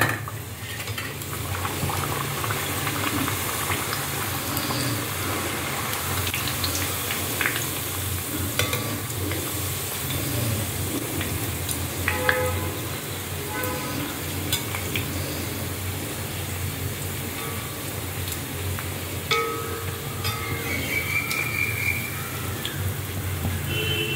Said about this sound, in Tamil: இந்த பூரிக்கு எண்ணெய் வச்சுருக்கேன். இந்த இட்டதை இதில் போடுறேன் மெதுவாக.